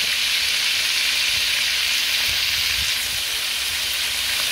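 Chicken frying in hot oil gives a steady, loud broadband sizzle that crackles on without a break, with no voices over it.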